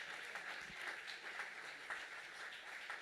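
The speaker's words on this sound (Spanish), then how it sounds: "Dele ese aplauso fuerte al Señor" Faint, even applause from a church congregation, steady throughout and heard from a distance.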